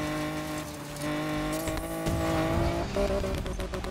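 A race car in Need for Speed Payback runs over dirt with a steady, revving engine drone, shifting pitch and a brief tire scrub, loud and constant throughout.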